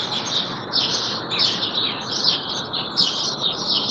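Small birds chirp and twitter in quick repeated bursts, fairly close and bright, a steady run of high tweets over a soft background hiss.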